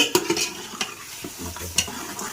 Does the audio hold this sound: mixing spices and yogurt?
yes